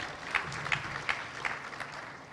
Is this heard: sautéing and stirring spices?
no